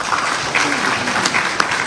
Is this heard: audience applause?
yes